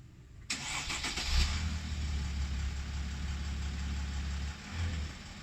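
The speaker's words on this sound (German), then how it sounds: "So, dann starte mal das Auto." A Mercedes-Benz R-Class 4Matic with a V8 cranks and fires up, settling into a steady, loud idle rumble close by, with a brief rev near the end.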